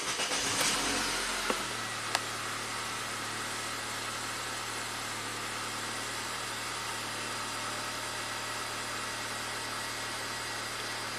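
A 2007 Acura RDX turbocharged engine, with a charging problem, cranks and catches, then settles into a steady low idle hum that runs on evenly, moderately quiet and close.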